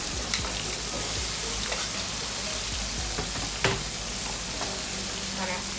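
Potatoes going into a pan of frying zucchini, a steady dense sizzle with scattered clicks and stirring knocks throughout, fairly close and loud.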